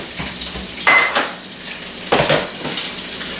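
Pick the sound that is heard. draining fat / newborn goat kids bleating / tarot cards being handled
draining fat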